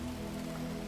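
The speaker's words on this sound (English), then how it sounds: "Outside, the rain had settled into a steady rhythm, neither increasing nor decreasing" Steady rain falls outside a cozy cottage, a dense, even patter with a constant low hum beneath it and no change in intensity.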